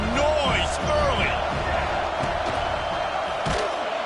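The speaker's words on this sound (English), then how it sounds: "This crowd bringing the energy and noise early" A College Football 26 stadium crowd roars in a steady, loud wash of cheering and noise throughout, with a few thumps and a commentator's voice faintly underneath.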